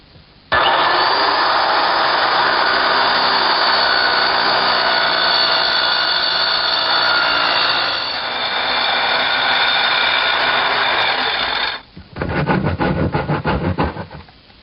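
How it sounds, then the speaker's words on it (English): Circular saw plunge-cutting through plywood along the grain, a loud continuous whining buzz of blade in wood for about eleven seconds, then stopping, followed by a brief rattling tail. "Position the saw over the line, and then slowly plunge it through the material."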